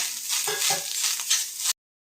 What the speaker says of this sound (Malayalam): കടുക് പൊട്ടിക്കഴിയുമ്പോൾ 2 ടേബിൾ സ്പൂൺ നാളികേരം ഇതിലേക്ക് ഇട്ട് വറക്കുക.